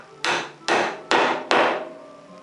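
Four sharp mallet blows on a chisel cutting a hand-made mortise in wood, evenly spaced about half a second apart, each a crisp close knock with a short ringing tail.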